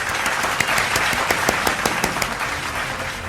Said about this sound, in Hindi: आप ज़ोरदार तालियों से उन्हें मंच पर आने के लिए आदेशित करें